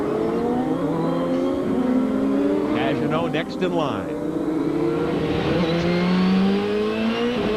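A 2007 Champ Car with Cosworth power races at Mont-Tremblant as its driver works the throttle, the engine's pitch rising and falling sharply while other cars scream past, all under a commentator's voice.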